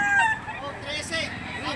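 Chickens at a livestock auction market in Lipa, Batangas, give a brief crow and clucks amid crowd murmur and background talk.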